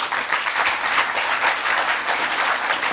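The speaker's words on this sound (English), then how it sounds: "giving them a round of applause" A school audience at a Muslim Judicial Council eisteddfod in Cape Town applauds young poetry learners and their teachers, producing a steady, dense wash of clapping that holds evenly throughout with no talk over it.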